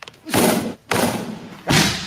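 Three heavy, sharp thuds of powerful kicks striking a punching bag, each a loud blunt impact spaced about half a second to a second apart.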